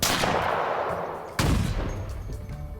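Gunfire from the Halo video game in an open space, with two loud booming shots about a second and a half apart, each trailing off into a long rolling echo.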